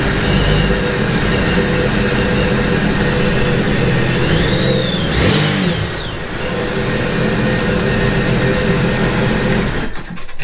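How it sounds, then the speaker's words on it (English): A Sea-Doo RXP-X 260 jet ski engine runs steadily at idle for several seconds, loud and close, with a brief rising whine partway through before it cuts off near the end. "I'm going to start the engine, let it run for 5 seconds or so"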